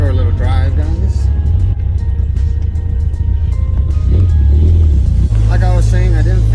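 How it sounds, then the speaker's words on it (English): An '87 car with a carburetor drives along, its engine a steady loud low rumble throughout, with a person talking over it. "Let's go for a short little drive, guys."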